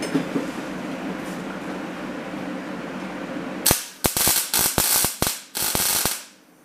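A ratchet wrench with a 19 mm socket tightens a nut while an HR mount is test-fitted on a Nissan S14. After a quiet stretch there is a quick run of about nine loud, sharp clicks that stop abruptly.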